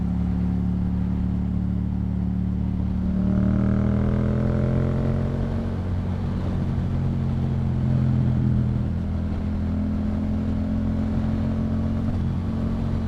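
Yamaha MT-07 motorcycle fitted with a Yoshimura exhaust, riding steadily with a continuous mid-pitched engine drone and a rising throttle pull partway through, heavy wind rush throughout, no talking.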